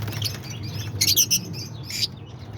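Lovebirds in an indoor aviary with parakeets, cockatiels and other parrots give a few short, high chirps near the middle and end of the moment, over a steady low hum, with no talking.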